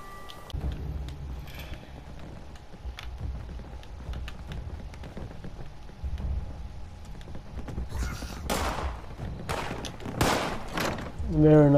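Gunfire in the video game Fallout 76, a scattered run of sharp shots and bursts over background music, growing denser and louder toward the end while a player talks intermittently.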